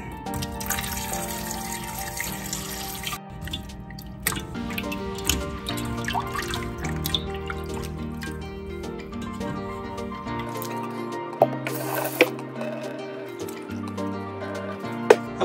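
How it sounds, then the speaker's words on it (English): Meat being rinsed in a vinegar and water bath for street tacos, heard as steady close trickling and dripping water with small splashes throughout, no talking. "Okay, so I've give it a vinegar bath with some water, and then I rinse it."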